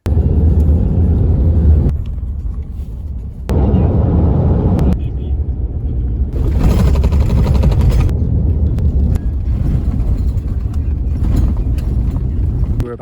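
A bus on the road from Swakopmund to Sossusvlei in Namibia produces a loud, constant engine and road rumble, with a few brief dips, while people talk over it.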